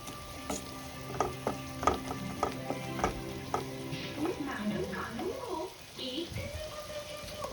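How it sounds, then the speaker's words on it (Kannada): Ingredients for a homemade butter egg gravy fry and roast in a pan with a soft sizzle, overlaid by repeated spoon clinks and clatter against the vessel, with a voice talking briefly partway through. "ಇವಾಗ ಇದನ್ನ ರೋಸ್ಟ್ ಮಾಡ್ಕೊಳ್ಳಿ ಫ್ರೈ."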